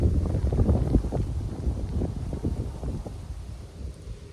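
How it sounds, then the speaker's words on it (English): Wind blows steadily outdoors as a broad, rumbling gusty roar, loud and continuous throughout with no voices over it. "The wind's picking up."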